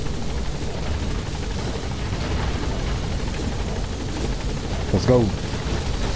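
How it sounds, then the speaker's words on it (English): A helicopter touches down in the video game Metal Gear Solid 5, its steady rotor roar filling the scene loudly and continuously while a voice speaks briefly over it. "Alright, the chopper's touching down."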